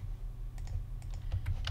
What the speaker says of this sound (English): I was typing, what do you know?